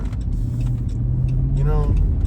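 A car passes by on a road, with steady low engine rumble throughout that builds slightly, while a person talks over it.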